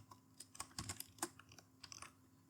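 Quick irregular clicks of typing on a computer keyboard, a burst of close, light keystrokes with short pauses between them.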